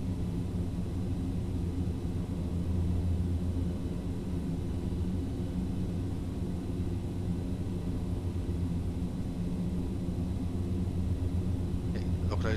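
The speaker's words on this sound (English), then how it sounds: "This is turbulence coming in now." Constant low turbulence rumble fills the cabin of a Carenado Fokker 50 turboprop in the Prepar3D v4 flight simulator, a steady dense roar with an engine drone underneath that holds loud and unchanging throughout, with no talking.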